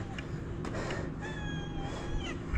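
A cat meows at Wat Phra That Doi Saket temple in Chiang Mai, a drawn-out, wavering cry heard near over a noisy outdoor background.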